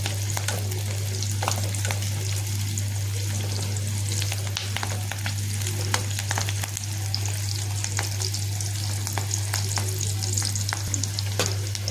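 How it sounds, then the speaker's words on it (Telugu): Onion and other coconut chutney ingredients roast in a hot pan, giving a steady close sizzle with scattered scraping and stirring clicks over a constant low hum, with no talk. "ఇది కూడా కొంచెం దొరగా కాలేదాకా కాల్చి"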